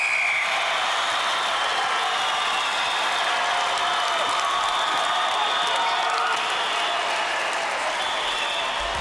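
A TV studio crowd cheers and applauds for several seconds during a tug-of-war tilt table contest on the 1993 British Gladiators show, a steady, loud roar of clapping and shouting with no gaps.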